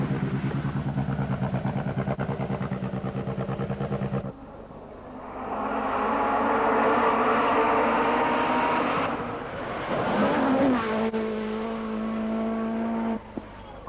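A Peugeot rally car races through a stage of the 1986 Rally New Zealand, its engine note rising and falling through gear changes, loud and close, with a car passing in a rush partway through.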